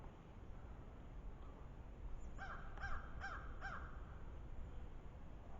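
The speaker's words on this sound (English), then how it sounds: "A lot of crows." Crows cawing along a wooded trail at Purtis Creek State Park: four harsh caws in quick succession from a moderate distance, over steady outdoor background noise.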